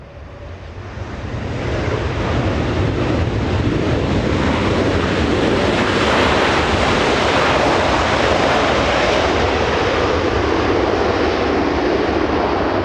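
A Hawaiian Airlines Airbus A330-200 arrives at Los Angeles International Airport, a loud, steady jet roar that swells in over the first two seconds and then holds as a broad, continuous rumble with no voices.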